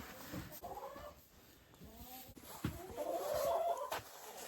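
A rooster crows faintly in the distance amid soft barnyard clucking and rustling in a barn with goats, the drawn-out crow rising near the end.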